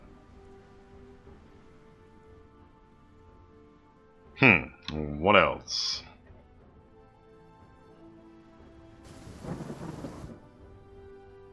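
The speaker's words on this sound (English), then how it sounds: "Is it raining? That's weird." Rain and rolling thunder from the Hearts of Iron IV strategy game weather ambience, a low continuous wash with a brief louder burst near the end, under a voice speaking in the middle.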